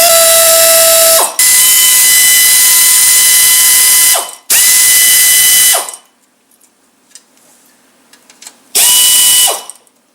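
A ratchet loosens a bolt on the transmission pan of an MK4 VW Jetta, making loud, close, rapid clicking in several long bursts with short pauses between them.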